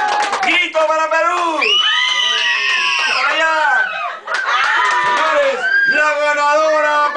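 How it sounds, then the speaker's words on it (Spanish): Party guests at a birthday gathering shout, whoop and cheer loudly and continuously for Peru, with excited voices and children's cries filling the room close by. "¡Grito para Perú!"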